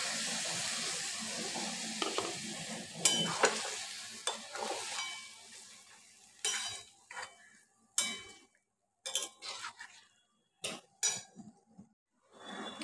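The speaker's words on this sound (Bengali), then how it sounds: "আমি এবার এই ঘুগনির মটরটা সেদ্ধ করাটা দিয়ে দেবো।" Boiled ghugni peas are stirred into a sizzling pan. Frying hiss and spatula scraping come at first, then break into short, separate bursts of stirring and clatter with quiet gaps between them, close by and with no talk.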